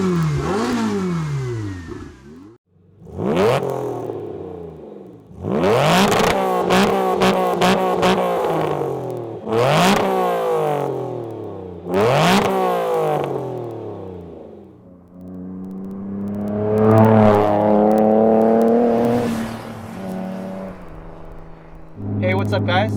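Glickenhaus SCG-003 race car engine revving in a series of loud, rising and falling bursts, with repeated sharp climbs in pitch and brief drops between them, ending in a sustained rumbling roar.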